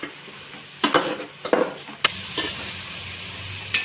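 Onion, tomato and green chili sautéing in oil left from frying prawns for a biryani. A soft sizzle runs underneath while a utensil scrapes and clacks against the pan in several sharp, close strokes.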